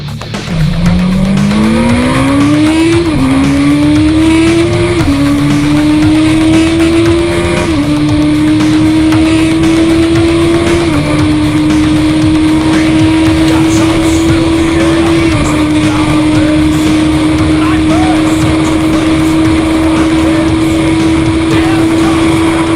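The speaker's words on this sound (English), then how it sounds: "Let's now enjoy this real live video for the stock accelerating Busa." A stock 1999 Suzuki Hayabusa motorcycle accelerates hard: a loud, close engine note climbs in pitch, drops briefly at each upshift, and climbs again through several gears before holding a high steady tone.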